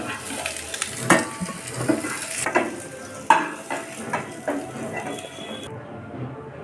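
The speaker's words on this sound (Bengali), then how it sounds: "এঁচোড় ভাজা হয়েছে, এখন নামিয়ে নেওয়া হচ্ছে" Fried jackfruit being lifted out of a hot pan, with a spatula stirring and scraping over a steady sizzle and a few sharp metallic knocks against the pan.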